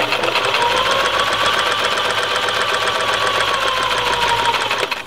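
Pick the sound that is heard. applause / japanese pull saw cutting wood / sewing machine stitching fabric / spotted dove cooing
sewing machine stitching fabric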